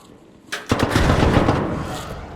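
An explosion in the video game ARC Raiders bursts suddenly with a sharp double crack, then rolls into a loud, sustained rumbling roar that slowly fades.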